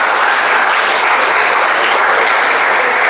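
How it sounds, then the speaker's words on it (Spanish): Church congregation applauding as an offering to the Lord, a loud, dense, steady wash of many hands clapping at once, sustained without a break and with no voices over it. "Puede dar una ofrenda de aplauso al Señor."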